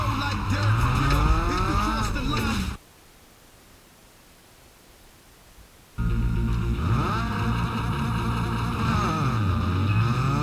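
A tuned car races around a track in Need for Speed: Underground 2, its engine revving loudly with rising and falling pitch and tire squeals, cutting out to near silence for a few seconds before roaring back.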